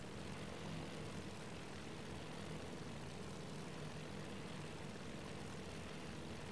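WWII aircraft engines from torpedo bombers in the naval combat game Task Force Admiral drone as a steady, faint, broadband roar with a low propeller rumble, continuous and unbroken throughout.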